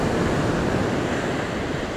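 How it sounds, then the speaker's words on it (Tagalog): Strong sea waves churn during typhoon Pepito along a boulevard shore, a loud, dense roar of surf mixed with gusting wind buffeting the microphone, continuous and without voices. "Ang mga alon pa makusog."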